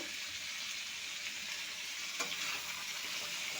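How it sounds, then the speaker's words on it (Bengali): Vegetables including pumpkin with ginger paste, salt and turmeric frying in a pan for a bitter chochchori, a continuous bright hissing sizzle, close and even, with one faint stir. "সবজিটা আমি ভালো করে ভেজে নেব"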